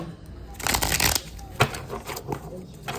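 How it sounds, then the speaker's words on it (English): Tarot cards are shuffled by hand up close in a few quick riffling bursts with short pauses between them, and a voice murmurs faintly underneath. "Shuffling for the air signs."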